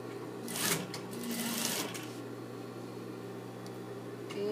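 A sewing machine runs in a short back-stitch burst, a dense rapid whir that is loudest in the first two seconds and then settles into a quieter steady hum, with no talk.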